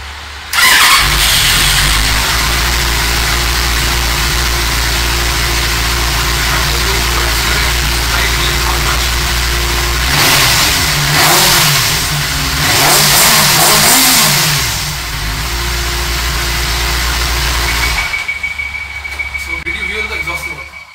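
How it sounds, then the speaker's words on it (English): A Benelli 600i motorcycle starts up after ignition repair and settles into a loud, steady exhaust drone, with revving swells in the middle before the engine cuts off near the end. "I'm just going to start the bike again just for you guys, so you can hear the exhaust note of this bike"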